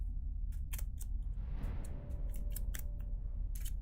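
Cards being shuffled for a Lord of the Rings board game, a steady run of crisp riffling and snapping clicks over a constant low background hum, close and fairly loud with no talk.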